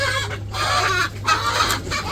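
A hen clucks in a village yard, a run of short, fairly close calls repeated over steady low background hum, with no talk.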